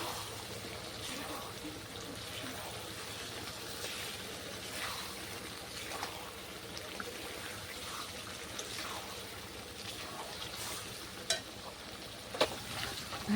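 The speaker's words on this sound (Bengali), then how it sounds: "ভেজে রাখা চিকেন দিয়ে দিচ্ছি" Pre-fried chicken pieces stir-fried in oily masala for butter chicken, a steady close sizzle with repeated spatula scrapes and a couple of sharp clinks against the pan near the end.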